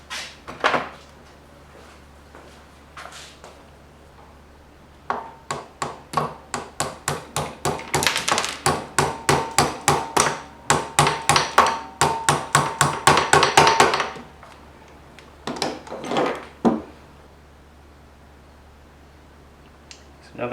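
A hammer taps a pin into the switch valve of a Ryobi 1700 PSI pressure washer. There are a few early knocks, then a long run of quick, sharp, close strikes, followed by a short final burst.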